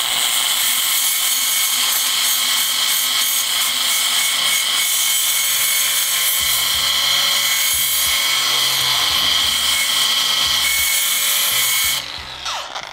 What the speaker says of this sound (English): So that's just absolutely wonderful about this German-made grinder.